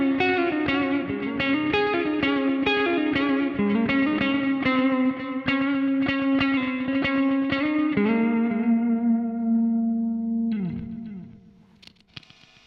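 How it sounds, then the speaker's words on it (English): Electric guitar run through a NUX Duotime dual delay pedal, strummed chords ringing with layered repeats from two delays, then a sustained chord fading out with trailing echoes and a brief pick noise at the end. "So you can clearly hear the repeats from two different delays."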